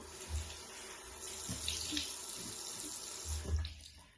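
Tap water runs steadily into a sink while a face is rinsed, with splashes and hand movements breaking the flow, close and moderately loud.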